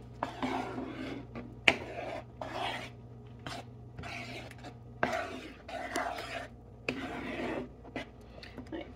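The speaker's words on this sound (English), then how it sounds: "You just keep rolling your spoon or whatever you have to stir with around your pan." A spoon scrapes and stirs a shrimp mixture around a pan in repeated rasping strokes, close and fairly loud, with a steady low hum underneath.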